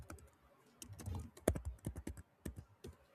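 Card details being typed on a computer keyboard, a quick irregular run of close, crisp key taps, some louder than others, with brief pauses between bursts.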